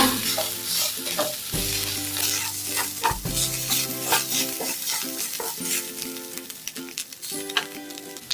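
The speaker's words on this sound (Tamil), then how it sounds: "துருவி வச்ச தேங்காவை சேர்த்துடலாம். அதில் நல்லா அந்த நெய்யிலேயே வறுத்துக்கலாங்க" Grated coconut roasts in ghee for a Tamil sweet, a lively sizzle broken by repeated scraping strokes of a spoon against the pan, close and clear, no voices.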